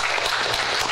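A brief burst of audience applause at an archaeology society academic forum, steady crowded clapping at moderate volume with no talk over it.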